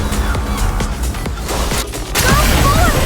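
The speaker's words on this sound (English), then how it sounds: "Aegis cannon, fire!" Aegis cannon firing in the video game Nikke, a dense stretch of booming, crashing impacts and mechanical clatter building into a louder roaring blast, with battle noise throughout.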